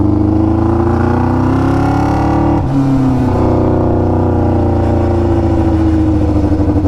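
A 600cc go-kart engine revs hard and steadily, a loud, close, buzzy drone held at high revs with a brief dip partway through before climbing again.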